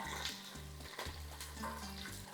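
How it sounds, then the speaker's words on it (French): Two large garlic cloves sauté in hot oil for a Spanish-style crab and shrimp soup, giving a steady close sizzle and frying crackle, with a faint clink of a utensil stirring the pan and no talking. "J'ai 2 grosses gousses d'ail. Donc, je vais faire juste revenir un peu."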